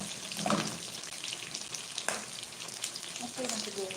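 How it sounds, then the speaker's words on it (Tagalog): Sliced onions frying in a pan make a continuous close sizzle with small crackles and a couple of louder spits, while faint voices murmur in the background. "Lutuin ko na lang sibuyas."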